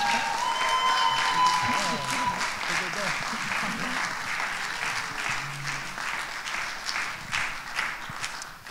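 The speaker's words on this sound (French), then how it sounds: "Et on peut les applaudir" Wedding guests at a marriage blessing ceremony applaud the couple with sustained, dense clapping from a crowd, steady for several seconds and slowly thinning toward the end.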